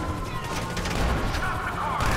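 Gunfire crackles in the video game GTA V during a police chase, a short burst of sharp shots and impacts under a busy game mix, with a player talking over it.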